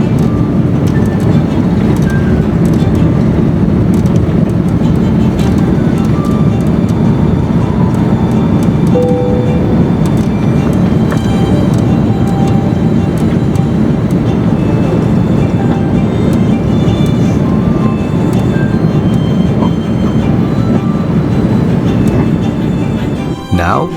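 Asiana Airbus A380 rolling down runway 33L on takeoff, heard from inside the cabin as a loud, steady broadband engine roar that holds constant throughout, with faint murmured voices beneath.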